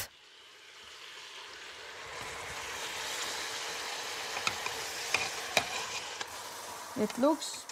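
Meat sizzles in a pan of melted butter and oil, a steady frying hiss with occasional sharp pops and a brief stir of utensils near the end.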